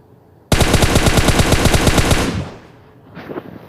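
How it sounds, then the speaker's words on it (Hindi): Automatic weapon fire in PUBG during a ranked match in Pochinki: a single loud, rapid burst of about a dozen evenly spaced shots lasting two seconds, then a fading tail and a faint follow-up sound. "मैंने यहाँ पर बहुत गंदा फायर किया था।"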